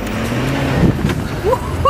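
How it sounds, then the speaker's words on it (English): Steady, loud car engine roar with brief rising whistles of the car's turbos spooling up near the end. "You can hear the turbos."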